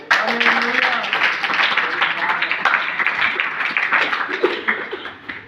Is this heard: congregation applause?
yes